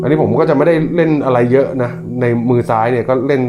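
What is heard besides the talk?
No everyday noises stand out.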